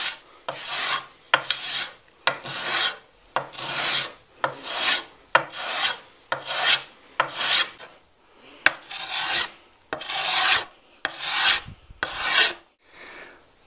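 Steel scraper rounding the wooden belly of a bow, about a dozen rhythmic rasping strokes, close and loud, each stroke a separate scrape with brief gaps between.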